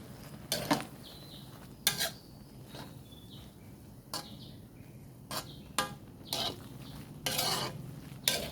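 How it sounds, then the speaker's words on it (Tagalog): A spatula stirs pancit canton vegetables in a pan, with repeated scraping and clanking strokes at irregular intervals over a low sizzle. "Haluin natin."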